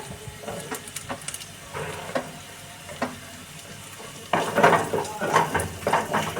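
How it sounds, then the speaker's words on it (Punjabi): Onion and tomato frying in a pan for keema matar gobhi, a continuous sizzle broken by stirring scrapes and clinks, surging louder near the end as more goes in. No talking is heard. "ਪਿਆਜ਼ ਨੂੰ ਅਸੀਂ ਇੰਨਾ ਕੁ ਭੁੰਨ ਲਿਆ ਜੀ ਹੁਣ ਅਸੀਂ ਇਹਦੇ ਵਿੱਚ ਇੱਕ ਟਮਾਟਰ ਇਹਨੂੰ ਇਸ ਤਰ੍ਹਾਂ ਕੱਟ ਲਿਆ ਉਹ ਪਾ ਦਾਂਗੇ"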